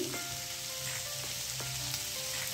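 Red bell pepper goes into vegetables frying in a pan for a mixed veg Frankie, giving a steady soft sizzle with a few light stirring knocks and no voices.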